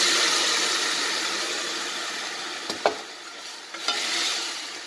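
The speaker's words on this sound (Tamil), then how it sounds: "இப்போ நம்ம வேக அந்த அரைச்சி வச்ச தக்காளி வெங்காயம் அந்த தண்ணியோட சேர்த்து இதில் ஊற்றிக்கணும்." Ground tomato and onion paste with water in a hot pan on the stove for tomato kulambu, a steady loud sizzle and hiss that fades slightly, with a couple of light clinks from stirring.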